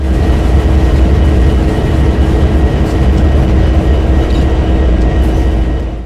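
A locomotive in a train video game rumbles along steadily, with a loud, constant low engine drone and a faint tonal hum, close and unbroken, with no voices.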